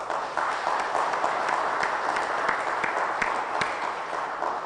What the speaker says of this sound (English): give a big round of applause to our diminutive and petite Kiara Mataji